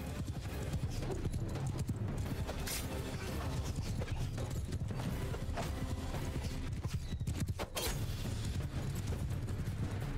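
Horses gallop through a Mount and Blade Bannerlord battle, a dense, continuous clip-clop of many hooves pounding at close range over a loud, steady roar of combat, with occasional sharp impacts.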